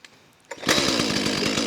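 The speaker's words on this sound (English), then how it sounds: "we'll do that by starting off our little chainsaw over here" A small, brand-new chainsaw starting up in a state forest to cut firewood: a brief pull rattle, then the engine catches and settles into a loud, steady, buzzing idle close by, with no talk.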